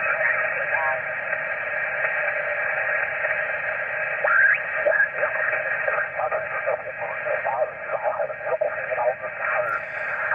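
HF shortwave radio reception: a steady band of hiss and static with faint warbling tones and chirpy interference drifting through, continuous and band-limited throughout.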